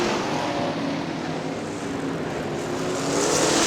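IMCA modified race cars roar around Crystal Motor Speedway in Crystal, Michigan, a steady, loud engine drone from the dirt track pack that swells slightly near the end, with no voices.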